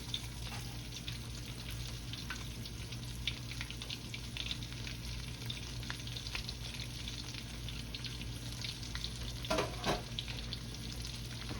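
Shrimp fry in hot oil, a dense, steady crackling sizzle close by, with a sharper burst of spatter near the end and no talking.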